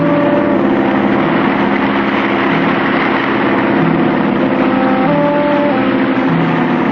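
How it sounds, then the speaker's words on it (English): A cartoon boat's engine runs against a river current just above a waterfall, giving off a steady, unbroken mechanical drone with a constant pitch that holds for the whole stretch, with no voices over it. "We'll keep the engine running to force us against the current and hold us from going over the falls."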